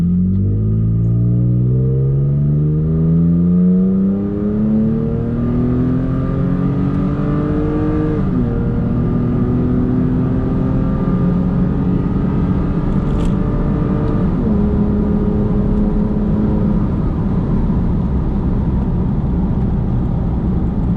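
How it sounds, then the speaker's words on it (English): A Toyota Tacoma pickup with a CARVEN cat-back exhaust revs repeatedly, its pitch climbing and dropping through several loud pulls, with a rough exhaust rumble throughout. "I love revving it out."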